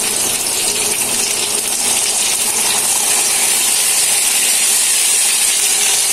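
A paste of onion, garlic, green chili and dried chili frying in a pan gives a loud, steady sizzling hiss that runs unbroken throughout.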